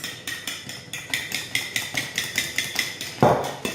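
Egg yolks for Gaúcho biscuit dough are beaten briskly in a bowl, producing a regular series of sharp tapping strokes about three per second, close and clear, ending with one heavier knock.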